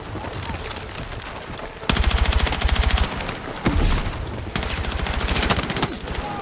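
Battlefield 6 gunfire in a match: rapid automatic bursts, loud and close, with sharp repeated shots in several clusters over continuous battle noise.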